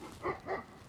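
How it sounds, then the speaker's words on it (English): Bulgarian Karakachan puppy giving a few soft, short yips and whimpers, close and faint, in quick succession. "Let me go show you the cute little puppy my wife and kids brought home"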